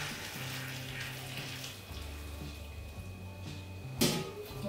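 Water pours steadily from a kettle into a pot of whole tomatoes being blanched to loosen their skins, a continuous splashing rush with a brief louder clatter near the end, no talking.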